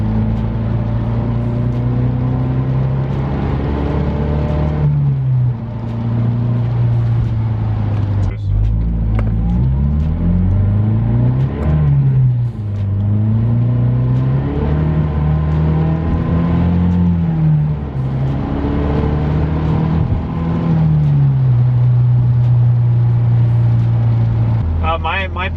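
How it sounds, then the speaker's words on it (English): A MazdaSpeed 3 with a resonator-deleted exhaust revs repeatedly, its droning exhaust note climbing and falling in several smooth sweeps, loud and close, with a voice occasionally in the background. "it still kind of sounds like the stock exhaust, but a little louder and with a little bit of different noise"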